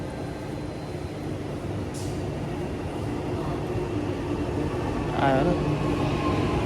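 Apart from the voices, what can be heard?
local metro train arriving at station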